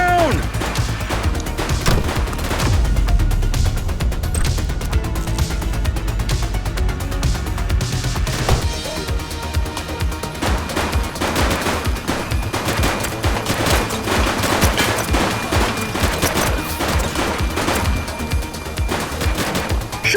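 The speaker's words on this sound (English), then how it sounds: "Shots fired!" Relentless gunfire from The Precinct video game, with dense, overlapping bursts of shots rattling on loudly and nearly without pause for the full stretch, heavier in the opening seconds.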